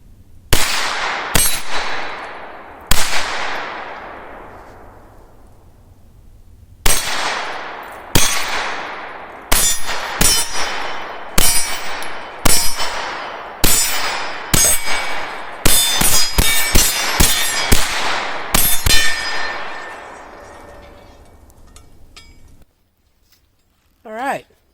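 Shots from a Beretta CX4 Storm carbine strike a steel gong at a shooting range, each sharp crack followed by a ringing metallic clang that decays; roughly twenty hits come singly and in quick bursts, loud and near.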